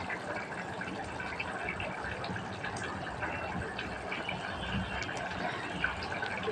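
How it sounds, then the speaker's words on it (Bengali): Water is poured into a pan of sweet pumpkin cooking with coriander powder, giving a steady, continuous splashing and gushing stream at close range that lasts throughout without pause. "আর একটু ধনের গুঁড়ো দিয়ে নাড়াচাড়া করে একটু জল দিয়ে ঢেকে দিব।"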